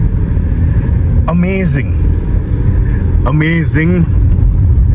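A Tata Sierra 2025 diesel SUV climbs a mountain road past a landslide area, its engine a steady low rumble throughout while someone speaks excitedly over it twice.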